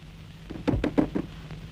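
A door in a Tamil film scene is struck with four firm, evenly spaced knocks, close and loud, heard alone against quiet background tone.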